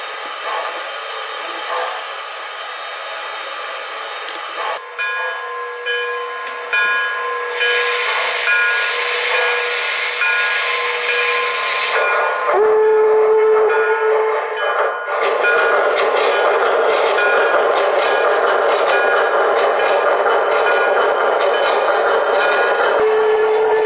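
An O gauge MTH Allegheny model train runs on a layout with a steady, close mechanical rumble, steam-style hiss and several sustained whistle tones that shift in character partway through.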